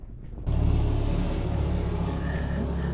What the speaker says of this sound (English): That is the sound of the rather frequent ATVs and motorcycles that are going up and down the road.